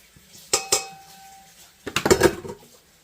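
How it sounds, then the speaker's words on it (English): A pumpkin pie in a dish set on a cookie sheet is slid into an oven, giving two sharp metallic clanks and then a cluster of rattling, scraping metal knocks as the pan settles on the rack. "Hard part's getting this in the oven without spilling it."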